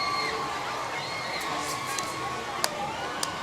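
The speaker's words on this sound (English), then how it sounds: "you hear those people screaming out there?" A crowd screams and cheers at a Mardi Gras parade in Mobile. A continuous, distant roar of many voices holds throughout, with a few sharper bursts near the end.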